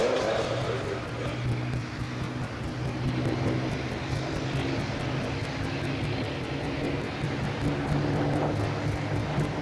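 Supermarine Spitfire, the Second World War single-seat propeller fighter, flying at Farnborough International in 1998, a steady loud engine drone with a low throbbing hum and a voice talking over it.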